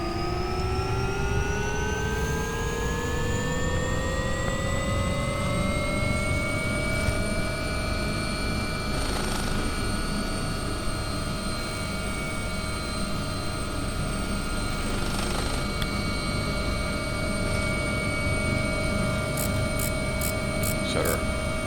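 Engine of an AW139 helicopter in a flight simulator game spooling up to flight RPM, a loud steady turbine whine that climbs in pitch over the first several seconds and then holds level under a constant rotor and engine roar.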